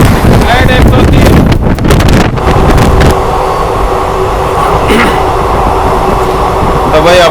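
A moving passenger train of ICF coaches hauled by a WAG 9 electric locomotive rumbles loudly and steadily near the microphone, with wind buffeting and a sustained tonal hum, while a voice talks briefly over the opening seconds.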